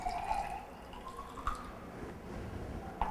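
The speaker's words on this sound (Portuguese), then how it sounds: "vou colocar em 100 ml de uma proveta a minha água quente" Hot water is poured into a 100 ml graduated cylinder in a chemistry lab calorimetry experiment, producing a thin, rising trickle with a few sharp drips, close and fairly quiet.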